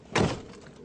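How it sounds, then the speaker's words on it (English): A Smart car door, its cabin intact after a crash test, thuds once as it shuts, a single loud close dull knock with a short decay, alone without talk. "Indeed, the door not only opens normally,"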